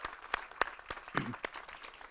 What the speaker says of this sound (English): Let's give a round of applause to our master chorale.